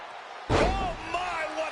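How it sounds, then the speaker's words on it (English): A wrestler's splash hits the mat in the WWE 2K25 video game with one sharp heavy slam, followed by a commentator's voice and crowd noise. "Oh my, what a splash!"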